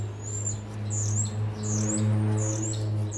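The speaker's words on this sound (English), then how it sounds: "Those birds are loud." Loud birds chirp outdoors in repeated bursts of high calls about every second, over a steady low hum, heard in a setting where a rear wheel bearing is being replaced on a 2011-2020 Toyota Sienna AWD.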